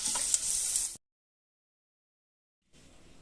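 Okra (ladies' finger) frying in a pan, a close hissing sizzle with stirring that cuts out abruptly after about a second, then silence before a faint return of the sizzle.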